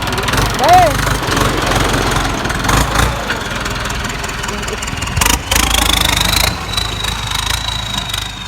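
A Ford 6610 turbo farm tractor runs nearby, its diesel engine chugging loudly and steadily with a few louder surges, while people talk over it.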